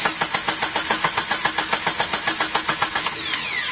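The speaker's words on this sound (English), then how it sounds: "So let's spin the motor over and see what we get." A Jeep Wrangler YJ engine cranks over on its starter in a steady, rhythmic churn of about four beats per second, close and loud, with no talking.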